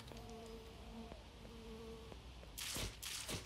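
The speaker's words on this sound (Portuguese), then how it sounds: "E tão grande que é esse mosquito." A giant mosquito in the apocalypse video game BAD 2 BAD Apocalypse drones with a steady, close insect buzz. Its tones waver, and it swells into louder bursts near the end.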